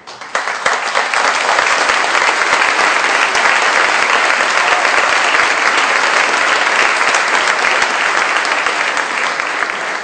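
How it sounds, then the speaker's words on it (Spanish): A large lecture audience at a law school conference on public access to information claps loudly and steadily for about ten seconds, a thick, even roar of hands with no talk. "pido que Ezequiel Santagana se levante y reciba esta aplauso."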